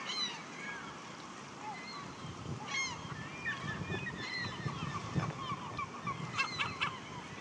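A seagull calls at a park beside melting ice, several short squawking cries at mid distance over a steady outdoor wash of water and wind, with a person talking softly in between.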